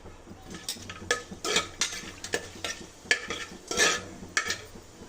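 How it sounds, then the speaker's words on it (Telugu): Cumin seeds frying in a pan, with repeated spoon scrapes and stirring clinks over a light sizzle, close and fairly loud in uneven bursts. "దీన్ని కొంచెంసేపు ఫ్రై చేసుకోవాలండి కొంచెం జీలకర్ర వేసుకోవాలండి"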